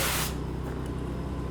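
A sprayer applies coating to a roof with a loud, sharp hiss that cuts off after a moment, leaving a lower, steady rush of noise outdoors.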